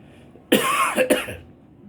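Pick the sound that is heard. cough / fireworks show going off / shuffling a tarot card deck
cough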